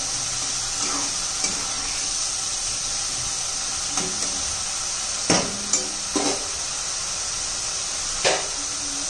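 Onions sauté in two spoons of oil for a chicken masala, a constant close sizzling hiss broken by a few soft spatula scrapes and taps.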